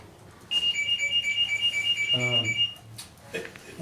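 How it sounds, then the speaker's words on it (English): An electronic beeping tone repeats in a quick steady pattern for about two seconds, fairly loud, with some background noise and a brief voice-like sound near the end. "phone's gonna start beeping when we're going out of town for something"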